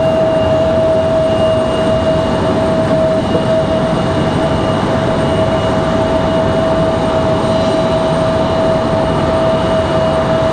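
A loud, steady roar with a persistent high whine from an Embraer E-175 jet starting its engines at Raleigh-Durham airport, unbroken and close throughout.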